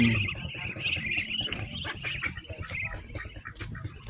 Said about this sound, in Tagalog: Yan na yung mga tatlong begging duck.